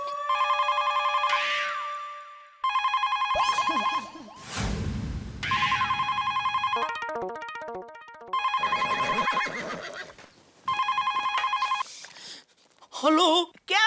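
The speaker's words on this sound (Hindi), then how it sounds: "बदले हुए सिम कार्ड से ही मैंने सुंदर को फोन ठोक दिया।" A telephone rings in repeated bursts of bright electronic trilling with short gaps. Other loud sounds break in between the bursts, including a crash and some warbling tones, and it closes with sharp clattering.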